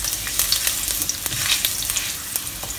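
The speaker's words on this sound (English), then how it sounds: "We want the aroma from the ginger to be out, so we need to fry them for a little while." Sliced young ginger, three pieces, frying in a little hot oil in a pan: a dense, crackling sizzle with frequent sharp pops, loud and close, with no talking.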